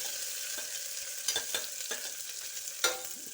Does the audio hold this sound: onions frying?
yes